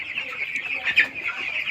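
A flock of 13-day-old broiler chickens fills the space with steady, overlapping high clucking and peeping, fairly close and continuous, with one slightly louder call near the middle.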